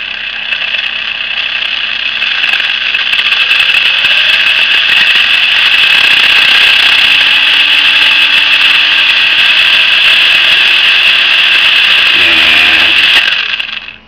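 A focus motor spinning fast on a prototype dual focus motor controller, giving a loud, steady high-pitched whine that holds for most of the stretch before winding down near the end.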